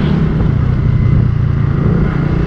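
Honda Beat 110 scooter engine, restored to stock parts, running at close range with a steady, loud, continuous drone and no clear rev swings.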